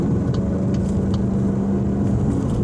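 Steady low rumble of road noise heard from inside a 2024 VW Golf GTI while driving, a continuous broadband drone with a constant hum and no talking.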